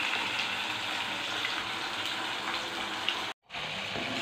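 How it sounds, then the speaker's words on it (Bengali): Potatoes frying in a pan for a pre-dawn Ramadan meal give a steady, dense sizzle that runs unbroken and fairly loud, dropping out briefly near the end before resuming. "তাকিন, তোমার জন্য আলু ভাজা হচ্ছে"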